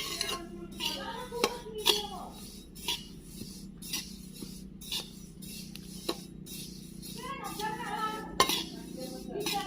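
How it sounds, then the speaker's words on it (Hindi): Sesame seeds roast in a pan over medium heat while a spoon stirs them, making irregular metallic clinks and scrapes at close range over a soft background hiss. "तिली को अच्छे से भून रहे हैं और तिली को हमेशा मीडियम आंच में भूनना चाहिए।"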